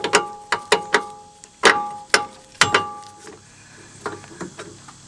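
Sway bar link nut worked off a rear suspension knuckle on a 2005-2009 Subaru Outback, a string of sharp metallic ratchet clicks and clanks, close and fairly loud, in irregular bursts that fade toward the end.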